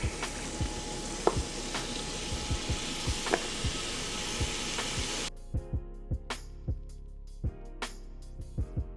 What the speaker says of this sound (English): So as the steak is searing